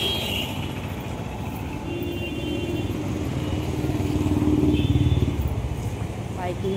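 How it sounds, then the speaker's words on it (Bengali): Motorcycle engine and mixed road traffic on a crowded street in Sodepur, a steady rumbling hum with passing vehicles, while people talk over it. "বাইক নিয়ে বেরোচ্ছি।"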